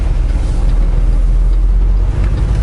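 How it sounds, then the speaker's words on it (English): A semi truck engine idling, a loud, steady low rumble holding constant throughout, close and continuous with no voices. "I ran the truck for a little while"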